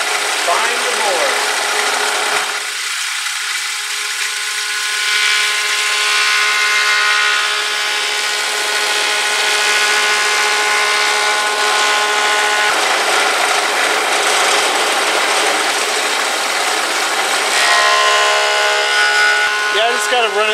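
A power planer runs a cupped wooden board through to flatten it, cutting rafter stock for a round dome-house roof. The machine gives a loud, sustained whining roar that holds steady for about twenty seconds with a brief dip near the start.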